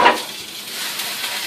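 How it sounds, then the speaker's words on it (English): A hot pan, just taken off the burner after cooking burritos, sizzles in water, a sharp hiss bursting at the start and then settling into a steady, fizzing crackle up close. "Let it sizzle in the water so it cools down."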